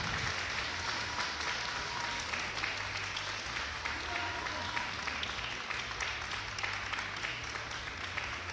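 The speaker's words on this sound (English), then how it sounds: "Both fighters getting a big applause here." Steady applause from an audience after a fight, dense continuous clapping from a sizable crowd with a low hum underneath, lasting the whole stretch.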